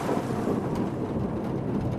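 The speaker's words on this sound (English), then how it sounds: "Thunder strikes." Thunder rumbling over steady rain as a storytelling sound effect, a continuous low heavy roar lasting the whole moment with no voices.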